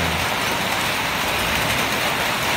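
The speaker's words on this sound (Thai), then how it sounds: "ก็บรรยากาศรวมๆเวลาฝนตกก็จะประมาณนี้นะครับ" Steady rain pours down outdoors in wet, muddy conditions, a dense continuous hiss that stays loud and unbroken from start to finish with no voices.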